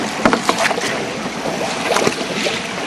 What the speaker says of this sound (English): give it a good sloshing round, clean all the media, all the dirt circulating